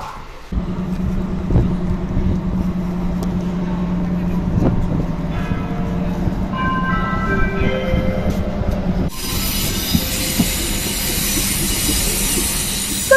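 A vintage train carriage rumbles steadily along with a low hum and faint clicking, and a louder hiss of wind and wheel noise swells in partway through.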